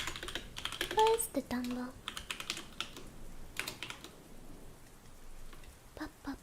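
Keys clack on a computer keyboard in quick irregular bursts, fairly close, while a voice speaks briefly over the typing and short tones sound near the start.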